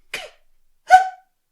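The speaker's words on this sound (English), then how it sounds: "Old man cough." An old man coughs twice, a short rough cough followed by a stronger, throatier one after a brief pause, close and alone with silence around them.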